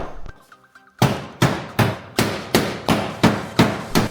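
The biggest club hammer strikes the damaged door of a Nissan NV400 van about nine times in an even rhythm, each blow a loud, sharp metallic bang that rings briefly.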